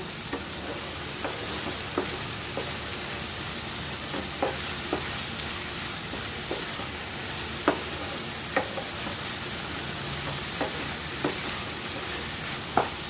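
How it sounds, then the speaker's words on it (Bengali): Red amaranth greens fry in a pan over a steady, loud sizzle. A spoon stirs them now and then with soft scraping taps, and no one speaks. "এইভাবেই আমি নেড়ে চেড়ে জলটা শুকিয়ে নেব"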